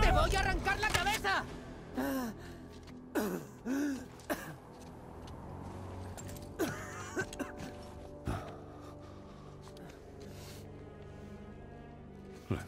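In the God of War video game, a character coughs and clears his throat roughly in a few harsh bursts early on, among strained gasps, grunts and spoken Spanish dialogue over a low ambient game soundscape.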